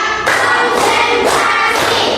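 A class of children claps in rhythm, four loud, even bursts of group clapping close by in a classroom, with no talk over them.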